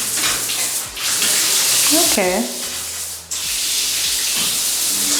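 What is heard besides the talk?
water flowing in a shower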